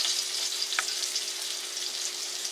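Cubed beef steak frying in butter in a pan, a steady close hiss and sizzle throughout with one brief pop near the middle.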